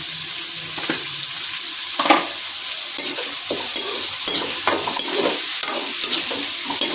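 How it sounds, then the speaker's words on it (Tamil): Tomatoes and onions sauté in a pan for a dried-fish and green papaya kuzhambu, with a continuous close sizzle and repeated scraping stirs, and no one speaking. "எடுத்து தக்காளியை போட்டு நன்றாக வதக்கணும்."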